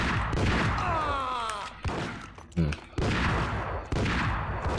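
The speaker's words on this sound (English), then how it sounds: "Let's use this sawed-off for a little bit." Sawed-off shotgun blasts in Max Payne HD, several loud, sharp shots fired at uneven intervals amid other dense in-game action sounds.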